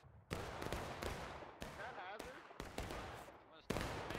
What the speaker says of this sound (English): That arty is doing some heavy damage right now